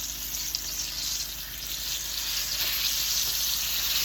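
A whole turkey deep-frying in hot oil until crisp, giving a steady, loud, continuous sizzle and crackle that holds evenly throughout with no voices.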